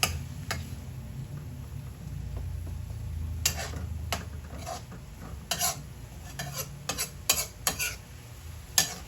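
A utensil stirs ground pork with potatoes in a pan over a soft background sizzle, with irregular sharp scrapes and clinks against the metal that grow busier toward the end.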